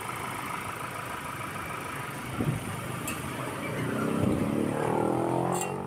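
A Ford Ranger 2.0 engine with a low-power fault and a lit check-engine light idles with a steady, even hum. The low drone swells slightly near the end.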